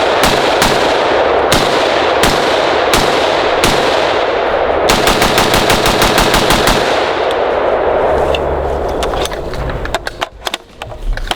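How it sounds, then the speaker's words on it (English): A series of loud, sharp gunshots from a battle rifle, likely an H&K MR762 or Sig Spear M7, fired in quick single shots and then a rapid string, close and dominant, tapering off near the end. "You know what, Jason, you want to shoot this thing?"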